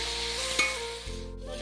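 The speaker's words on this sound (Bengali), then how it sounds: "তো দেখো খুব ভালোভাবে ভেজে নিয়েছি" Spices sizzling in hot oil in a pan while cooking a rui fish curry with raw tomato, a brief steady frying hiss with a light stirring scrape in the middle.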